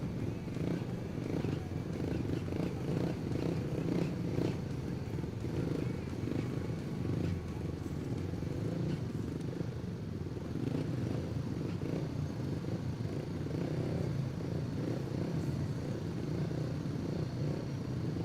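Engine drone from 500 cc speedway motorcycles racing in a heat, a steady, dense roar that holds throughout at moderate distance with no clear pauses.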